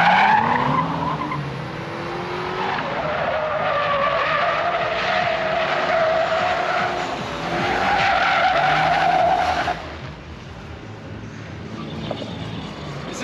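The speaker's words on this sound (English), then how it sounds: "I've seen him drifting it and he's getting it up on two wheels all the time." A drift van slides at Ebisu with loud, sustained tire squeal and skidding under a roaring engine that rises and falls over several seconds before easing off, with no voices.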